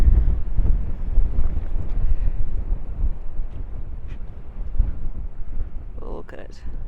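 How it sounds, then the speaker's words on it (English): Strong wind buffets the microphone at the lighthouse precinct in Exmouth, a steady loud rumble throughout, with brief voices faintly audible near the end. "Not sure if you can hear us, but it's because she's a bit windy up here."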